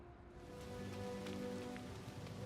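Blood rain falls in Diablo 4 as a quiet, continuous patter of drops on surfaces, with a low ambient drone underneath and a few brighter splashes.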